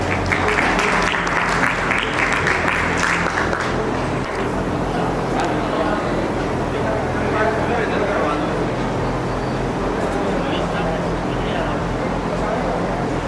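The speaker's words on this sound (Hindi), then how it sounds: "एक बार जोरदार तालियों से उनका स्वागत किया जाए" An audience at a national-level education awards ceremony applauds in a loud, sustained burst to welcome trainers and teachers, the clapping strongest at the start and then continuing more softly.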